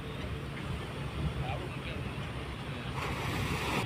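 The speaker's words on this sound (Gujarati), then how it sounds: "મોજાઓ હલકા એવા આવી રહ્યા છે" Small, gentle sea waves lap at Mangrol fishing port as boats head out, a faint continuous wash of water mixed with wind noise on the microphone.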